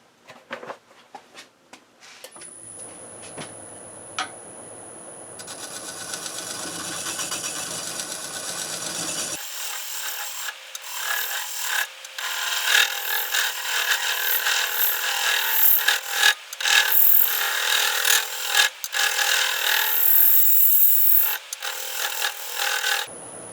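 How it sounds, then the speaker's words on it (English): A skew chisel held as a negative rake scraper works the bottom of a segmented wooden bowl on a lathe, giving a steady hiss of scraping that grows rougher and louder over the motor's hum, with no talk. "I'm going to use my skew chisel as a negative rake scraper and try clean the bottom up that way"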